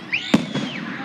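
A firework bursts with one sharp loud crack, followed by a whistling trail and a softer secondary pop.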